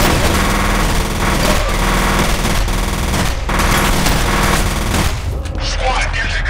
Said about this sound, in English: Somebody has a shotty.